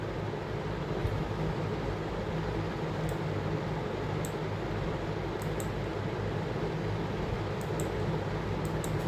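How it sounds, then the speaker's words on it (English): A fan runs steadily as a constant broadband whoosh with a low hum, close and unchanging for the whole stretch, with a few faint clicks on top and no talking. "All you can hear is a fan."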